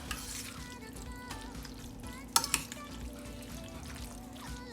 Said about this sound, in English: Let me stir this real quick and I'll straighten this pan back up.